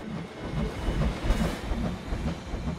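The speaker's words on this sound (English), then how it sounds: "this is sort of the train ride down here" A train ride in Planet Coaster: rolling train wheels with a steady clickety-clack and faint hiss, continuous and fairly close, with no voices.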